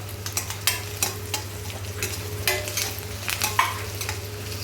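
Onion sautéing in a pan with curry leaves and ginger garlic paste sizzles steadily, with repeated stirring scrapes and light clinks spaced through the sound.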